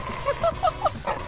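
A dog in the GTA RP video game lets out a short run of yips and barks, four or five brief calls spaced fairly evenly, sitting at moderate loudness over a low game background.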